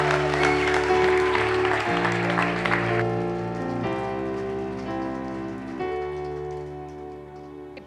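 A church conference congregation applauds in praise during an evening service, a dense, continuous wash of clapping under sustained organ chords that shift every couple of seconds.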